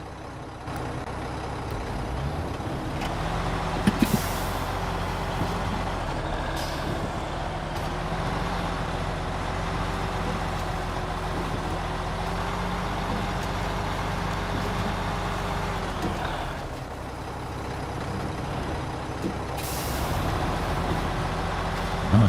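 A heavy truck engine in SnowRunner labours steadily over rocky terrain, its deep drone holding near and loud for most of the stretch, with a few sharp knocks and clunks from the chassis and a brief dip in revs toward the end.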